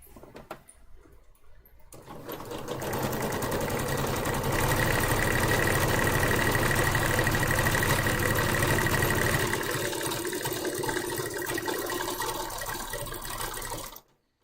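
A sewing machine whose bobbin is running low starts up after a couple of seconds of quiet and runs at a steady, continuous whirring drone for about twelve seconds before stopping abruptly.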